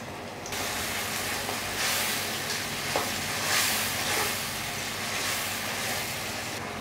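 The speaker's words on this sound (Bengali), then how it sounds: "মশলাটা খুব সুন্দরভাবে কষানো হয়ে গেছে এবং তেল ছেড়ে দিয়েছে" Spice paste fries with onions in oil for a coconut and country chicken kosha, making a dense, continuous close sizzle with soft stirring scrapes and no voices.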